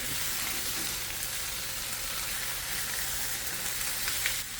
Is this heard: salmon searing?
yes